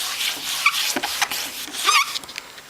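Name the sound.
hands smoothing kraft paper in embossing folder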